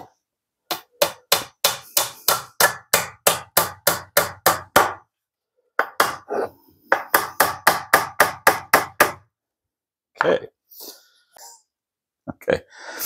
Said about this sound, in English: Take that one, put a nail in it.